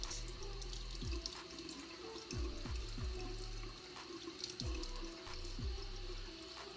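Tap water runs steadily into a sink while a makeup brush is wetted for cleaning on a silicone pad, a continuous close hiss with a few low gurgling splashes from the basin.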